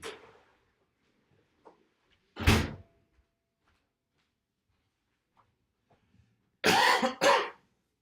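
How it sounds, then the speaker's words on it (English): A person coughs twice, a short single cough early on and then a louder double cough near the end, close and dry, with silence between. "Oh, the stupid cough."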